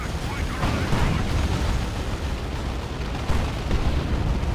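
Plague shot artillery shells land in the Dawn of War 2 strategy game, with a dense, continuous rumble of explosions and one sharper burst, loud and unbroken.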